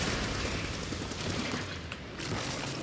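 Glaive weapon attacks in Darksiders 3 come as a dense, steady stream of rapid hits and clashes, fairly quiet and continuous with no clear pauses.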